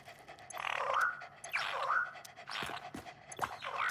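A dog in the video game Satisfactory panting in repeated rhythmic breaths, about four bursts, fairly quiet and close.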